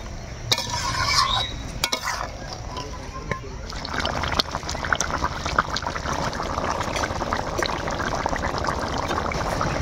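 Fried whole brinjal and fish being turned in a pan, a couple of utensil knocks early, then a steady stirring scrape over soft sizzling, close by, with faint speech in the background.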